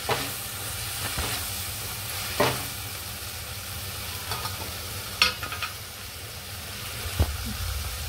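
Tomato soup with black pepper cooking in a pot on the stove gives a low, steady bubbling hiss, with a few soft clinks and taps at intervals and no voices.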